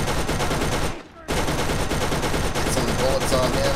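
Rapid gunfire rattles in the shooter game Borderlands, steady bursts of shots broken by a brief gap before resuming, with a voice briefly heard over the game noise.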